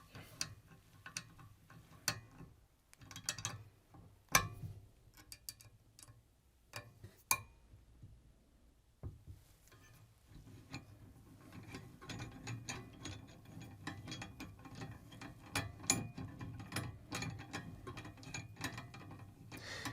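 A ratchet loosens bolts on a TALENTO SimPedals pedal guard, with sparse clicks and clacks at first, then a long run of rapid, close ratcheting ticks, and no voices.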